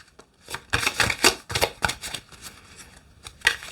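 Cards are shuffled in a series of quick crisp riffling bursts, close and fairly loud, with short pauses between them.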